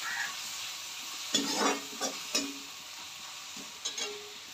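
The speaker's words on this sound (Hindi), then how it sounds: "और अब हम इन्हें मसालों को भून लेंगे।" Spices and tomato frying in a pan for dal saag, with a soft sizzle underneath and a few separate scrapes of the stirring spoon.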